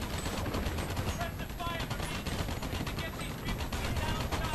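Gunfire in the video game Battle L.A., rapid continuous bursts of machine-gun shots over a dense, loud battle din, with a voice partly mixed in.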